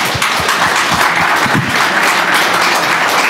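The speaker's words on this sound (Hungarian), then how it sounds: "Bártusz Lewandowskinak és Papp Miklósnak köszönjük szépen a beszélgetést, egy tapsot kaphatnak" Steady, dense applause from a conference audience after a panel discussion on national culture, clapping loudly and evenly throughout with no talk over it.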